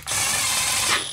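A torque wrench ratchets steadily while tightening bolts on a supercharger blower lid, a dense, continuous clicking that runs close and loud for about a second.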